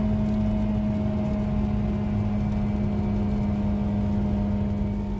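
A 2001 Toyota Celica engine with misfires runs hard, a steady loud drone with a strong constant tone and no talk, held continuously rather than rising and falling.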